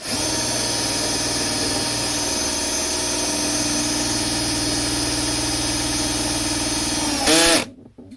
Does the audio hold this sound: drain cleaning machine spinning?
yes